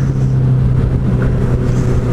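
A motorcycle engine runs steadily for about two seconds, a loud continuous rumble with a strong low tone and slight rises in pitch, up close and alone.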